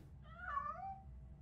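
A cat in the video game RoboCop: Rogue City gives a single soft, clear meow over a low background hum, fairly faint and alone without talk.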